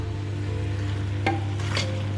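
A few soft scraping stirs of tomatoes in a frying pan over a steady low hum, with a faint sizzle beneath; two brief brighter scrapes stand out.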